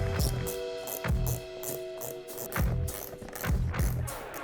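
Ratchet wrench snugging down nuts on a Harley touring saddlebag mount, a rapid clicking pawl repeating in several close, loud bursts with brief pauses between strokes.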